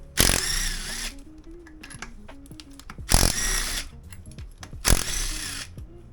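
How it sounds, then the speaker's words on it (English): Three loud bursts of an impact tool zipping bolts off a Foxbody Mustang's cooling system, separated by quieter clinks and handling of parts. "Now with this, I'm gonna just use power tools, make it faster."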